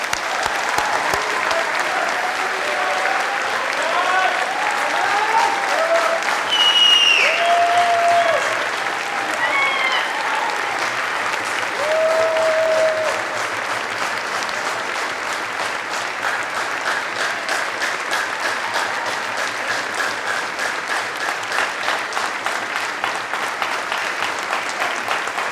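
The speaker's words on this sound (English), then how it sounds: "And I think we should all give them a final round of applause." Graduation ceremony audience at the University of Manchester applauding steadily and loudly for the whole stretch, a dense sustained wash of clapping with a few faint voices and whistles scattered through it.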